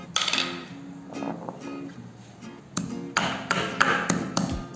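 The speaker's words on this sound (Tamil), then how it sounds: "இப்போ வந்து இந்த மிளகும் லவங்கமும் சேர்த்து இடித்து வச்சுக்கலாம்." A pestle pounds ginger, black pepper and cloves in a kitchen, giving irregular dull thuds and taps that come in short bursts, close and moderately loud, with no talking.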